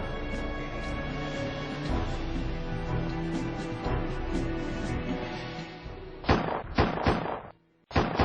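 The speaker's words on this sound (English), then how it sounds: "Gunshots are heard" A dense, roaring din from a gathered crowd of Ninoy Aquino's supporters gives way to several sharp gunshots in quick succession near the end, loud against the noise, followed by a brief silence.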